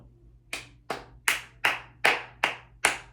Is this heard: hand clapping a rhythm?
yes